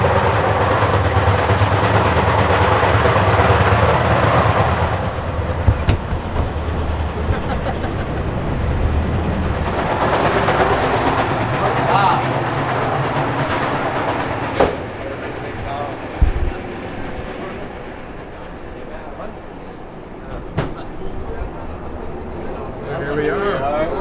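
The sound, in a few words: Egyptian sleeper train running on rails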